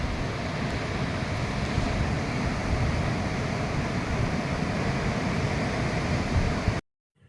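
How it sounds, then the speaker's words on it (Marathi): Sea waves at Bhatye beach, heard from a high point above the shore, make a constant distant roar that stays even and fairly loud, then cuts off abruptly at the end. "लाटांचा आवाज तुमच्या कानावरती अगदी स्पष्टपणे येतो"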